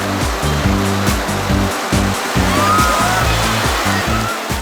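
Foaming whitewater rapids on the river at Bovec rush in a loud, steady roar up close, with deep churning surges pulsing underneath and no voices.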